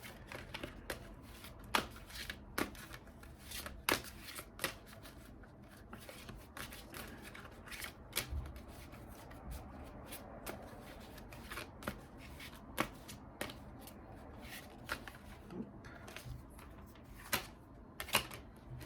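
Tarot-style True Crime cards are shuffled and riffled close by, a long run of soft rapid flutters and sharp card snaps with no talking.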